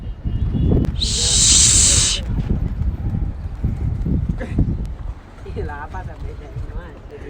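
Pigeons coo nearby in soft, low, repeated calls, mixed with people talking and some brief clattering.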